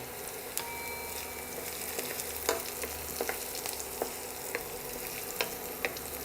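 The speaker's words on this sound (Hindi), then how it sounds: "हरी मिर्ची, अदरक, लहसुन सब अच्छा पक जावेला," Green chilies, ginger and garlic frying in oil for a Jodhpuri chana dal dish, a soft continuous sizzle with scattered small pops and crackles, no talk.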